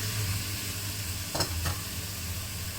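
Minced pork stir-frying for Japanese tan tan ramen: a steady broadband sizzle throughout, with two brief louder scrapes of a utensil against the pan near the middle, no talking.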